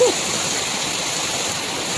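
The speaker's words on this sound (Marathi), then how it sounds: "डोंगरातून पाणी येते एवढा पाऊस लागला" Rushing runoff pours down from the hills during heavy rain, a loud, steady broadband roar of flowing water that fills the whole clip without a break.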